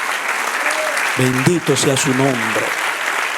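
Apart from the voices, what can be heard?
applause from a church congregation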